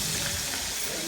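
Fish frying in oil gives off a dense, unbroken hiss and crackle, close and steady across the short moment, with no talking.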